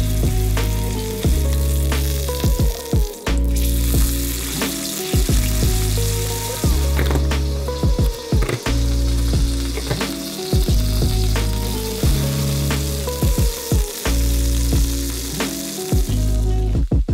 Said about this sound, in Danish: Jeg steger altid smør til sidst.